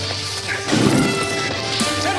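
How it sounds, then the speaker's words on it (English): A statue thrown onto the ground on a classic TV set, smashing into bits with a sharp crash and scattering debris, followed by a lingering noisy tail. "they asked Patrick Duffy to throw the statue onto the ground, smashing it into bits"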